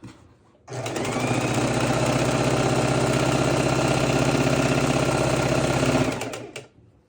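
A sewing machine runs steadily at close range for about five seconds, stitching a quilt border seam with a smooth, even mechanical whir that starts and stops abruptly, with no talk over it.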